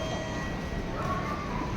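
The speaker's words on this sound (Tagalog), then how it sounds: "Sakay tayo dito sa tren." A train in Japan rumbles past with a steady, low mechanical roar, brief and moderately loud.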